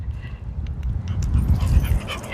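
A puppy whimpers and yips in short, close, high whines over low snuffling and movement, with no talk over it.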